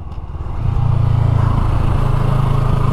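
A CF Moto motorcycle rides on a race track, its engine note rising quickly to a loud, steady buzzing drone close to the microphone, with no one talking.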